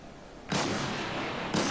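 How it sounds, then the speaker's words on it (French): A warship's cannon fires in the World of Warships naval battle game, a cruiser-versus-battleship match, with two loud booming blasts about a second apart, each leaving a long rumbling tail. "Allez, canon."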